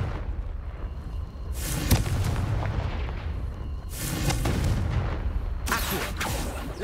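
Confringo blast spells explode in Hogwarts Legacy as three loud, booming bursts with rumbling tails, spaced a couple of seconds apart over low game ambience.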